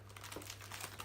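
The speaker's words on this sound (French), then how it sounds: "On la sort de son sachet." Puff pastry sheet pulled from its plastic packet while preparing a Normandy-style apricot tart, giving a steady close crinkling and rustling of wrapping for about a second over a low constant hum.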